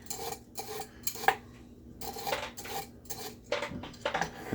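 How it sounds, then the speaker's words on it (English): A kitchen ice machine drops ice, making repeated clattering bursts of hard cubes, close and irregular, several clusters of rattling clinks separated by brief quiet gaps. "It's my ice machine."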